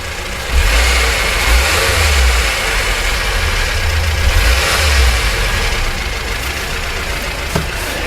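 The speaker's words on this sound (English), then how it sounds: "that timing chain's really loud" A Mazda 5 car engine runs loudly, with a steady rattling, ticking clatter from a loud timing chain over a low rumble that briefly rises as it revs.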